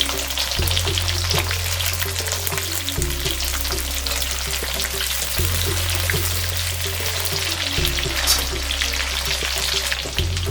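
Twenty-odd peeled small onions frying in hot oil in a pan for sambar rice, giving a steady close sizzle with no talk, with a low cyclic hum under it.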